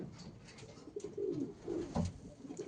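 Pigeons coo softly in a loft, several low throaty calls overlapping in an uneven rhythm, close by and quiet with no talking.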